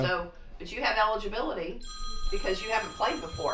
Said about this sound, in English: Ooh, wait a minute, that's my phone someplace.